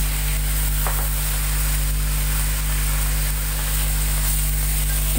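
Garlic, ginger and star anise fry in hot oil, giving a steady, close, loud sizzle with a constant hiss and no talk over it.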